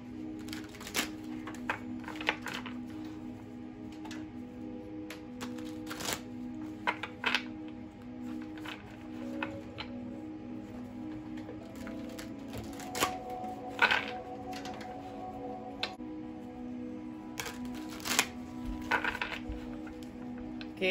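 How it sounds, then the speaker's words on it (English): New tarot cards are shuffled repeatedly in short riffling bursts, quiet and close, over a faint steady hum in the background. "I had to shuffle these cards for a minute because they're new"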